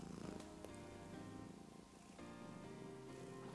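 A cat purrs softly and closely in a low, continuous rumble that stays steady throughout, with no voices over it.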